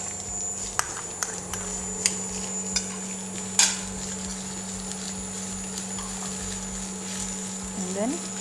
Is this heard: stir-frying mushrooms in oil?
yes